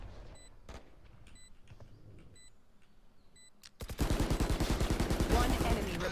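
Gunfire in the Valorant video game, a few faint shots followed by a loud, rapid burst of automatic fire that continues to the end.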